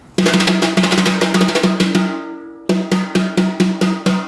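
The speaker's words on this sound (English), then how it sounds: "using the top of the fan or the tips of the brushes" Light, crisp drum brush tip strokes in a steady pattern, each a soft ticking hit, with a brief pause before the strokes resume.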